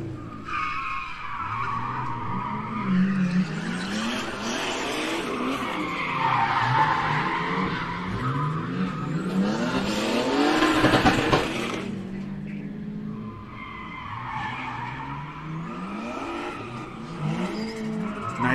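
A rally car at a gymkhana test accelerates hard with revving engine pitch swings and repeated loud tire squeals and skids as it slides through the course, close and continuous.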